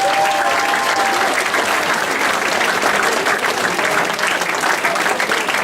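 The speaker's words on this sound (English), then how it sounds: "Give yourselves another round of applause." Sustained applause from a crowd at a youth rugby presentation evening for an under-13s team, a dense, steady clapping that carries through the whole stretch without any voices over it.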